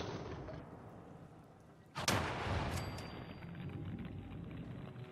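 Western Revolver shots in the Fallout 4 video game against an Alpha Deathclaw ring out as a sharp, loud crack midway, over a steady rumbling game background with ringing tones after.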